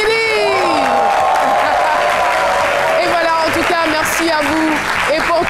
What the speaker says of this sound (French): Merci donc d'applaudir très fort le fan club Semili.